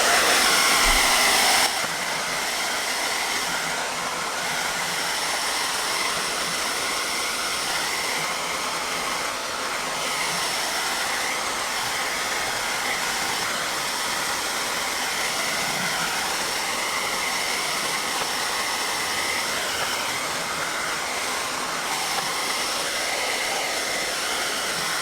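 A heat gun blows steadily on a yellow vinyl tint over the fog light lens of a Toyota Land Cruiser 100 Series, a constant close airy roar that holds unbroken throughout.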